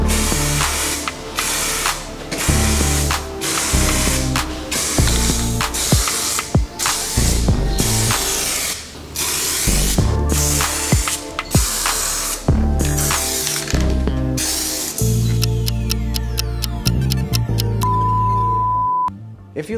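A spray gun lays a full wet coat of gloss black paint on a Mercedes B-Class side mirror in a series of short, loud hissing bursts with brief gaps, and mechanical clicks near the end.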